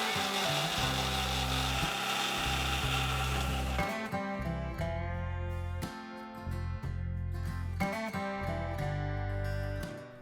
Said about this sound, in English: Grind and make a fine paste.